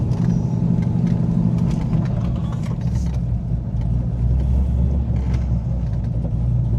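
A cammed C5 Corvette rumbles steadily while driving, its deep, loud, lopey engine note continuous throughout with no talking.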